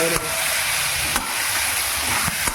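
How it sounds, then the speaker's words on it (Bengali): Chanda fish fries in a pan with ginger-garlic paste and green chilies, a loud, continuous sizzle broken by a few scraping stirs of a spatula, close up and with no talking. "একসঙ্গে ভালো করে ভাজবো, কষা কষা করে এই মাছটা করবো"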